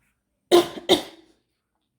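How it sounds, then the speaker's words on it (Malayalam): Two sharp coughs in quick succession, close and fairly loud, followed by silence. "എനിക്ക് ഈ ചുമയുള്ളതുകൊണ്ട് ഇടയ്ക്കിടയ്ക്ക് ഭയങ്കര ഡിസ്റ്റർബൻസ് ആവുന്നുണ്ട്"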